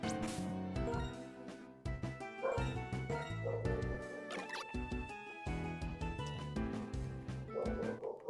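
A pet dog barking with short yips and whimpering cries in an indoor setting, a busy run of overlapping yelps and bow-wows over several seconds, close and fairly loud.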